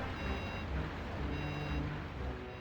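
Reversing beeps sound from a large boat in the Donkey Kong 64 video game, a steady repeated electronic beep over a dense, continuous mechanical rumble.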